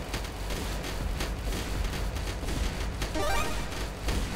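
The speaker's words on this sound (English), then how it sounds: "the machine guns are still doing pretty well on these guys." Rapid automatic machine gun fire from defensive turrets in the strategy video game Nexus Defenders, a dense continuous rattle with booming hits layered over a steady rumble, no speech.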